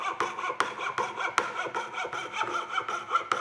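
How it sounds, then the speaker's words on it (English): A coping saw cuts a wooden tab to shape for a folding breakfast tray. Close, brisk rasping strokes repeat in a quick, steady back-and-forth rhythm, with a few sharper clicks, and no voices. "every shop ought to have a good quality coping saw, and it makes short work of this particular task"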